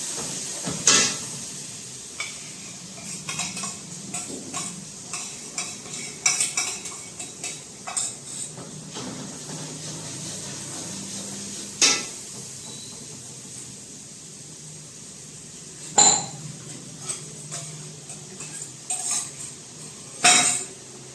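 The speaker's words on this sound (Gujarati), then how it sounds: "હવે મસાલામાંથી જ્યાં સુધી તેલ ન છૂટું થાય ને ત્યાં સુધી આપણે હલાવશું" Spice paste stirred slowly in a pan over low heat, a metal spoon scraping and clinking against the pan in irregular taps with a soft sizzle underneath, a few sharper clanks standing out.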